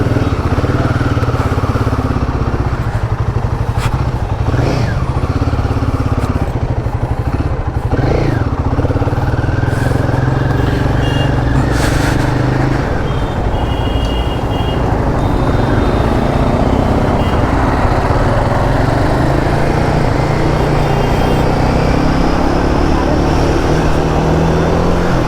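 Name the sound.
motorcycle ride on a test ride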